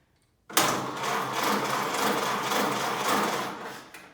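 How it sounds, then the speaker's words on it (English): A 1929 Ford Model A engine cranks over on its starter, starting abruptly and grinding steadily for several seconds in a dense, rhythmic churn before easing off. "So now we've got some cranking going on."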